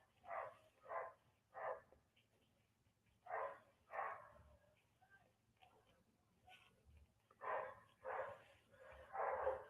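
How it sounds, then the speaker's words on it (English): Several dogs barking off in the distance, repeated bursts of loud barking in clusters with pauses between, alone without talk. "someone's dogs are barking off madly"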